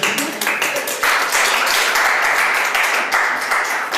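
An evening talk audience applauds after a speaker is introduced, a moderately sized crowd clapping in uneven bursts that swell and settle, close and lively, with no one talking through it.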